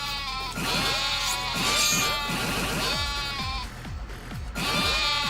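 Several goats bleat in a noisy, overlapping chorus inside the video game Yakuza: Like A Dragon, with calls rising and falling continuously and fairly loudly throughout.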